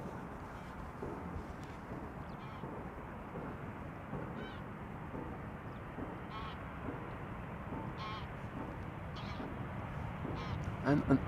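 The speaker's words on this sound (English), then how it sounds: "an isolated goose flying overhead, which you might have heard just now" A lone goose flying over Amsterdam Schiphol Airport gives a handful of faint, distant honks spaced across a steady outdoor rumble.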